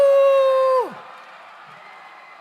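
Crowd at the BU Olympics 2025 opening ceremony cheering for the Red Team: one loud close whoop, then a steady wash of cheering and applause.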